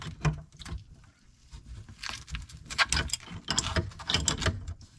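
A wrench working on a plumbing shut-off valve, with irregular close metallic clicks, scrapes and ratcheting taps in uneven bursts and no talk.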